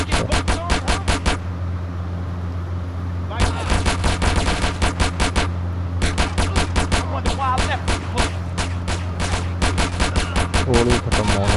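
Rapid gunfire from the GTA San Andreas video game comes in long bursts of quick, loud repeated shots, broken by short pauses, with a low engine-like drone underneath.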